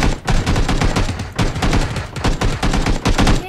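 Micro Uzi gunfire in the battle royale game PUBG: rapid sustained automatic bursts, loud and close, with brief gaps between strings of shots.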